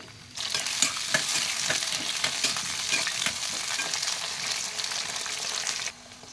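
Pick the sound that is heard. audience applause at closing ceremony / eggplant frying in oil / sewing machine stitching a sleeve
eggplant frying in oil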